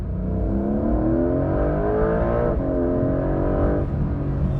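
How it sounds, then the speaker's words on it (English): A 2025 Porsche 911 Carrera 4 GTS T-Hybrid accelerating hard in second gear, its engine note climbing steadily in pitch with a throaty, rising drone, a brief dip midway as it shifts, heard loud and close from inside the cabin with no talking. "this car has a much throatier sound to it when you're accelerating"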